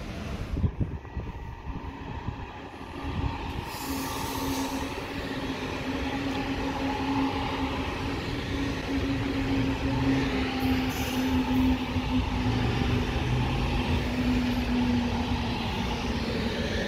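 A train at Eupen railway station gives a steady rumbling hum with a sustained low tone and brief high squeals, fairly loud and continuous for the whole stretch with no talking.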